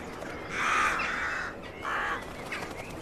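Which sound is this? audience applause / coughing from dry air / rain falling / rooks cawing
rooks cawing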